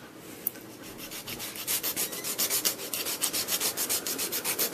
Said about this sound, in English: I like to cut them and I use a file.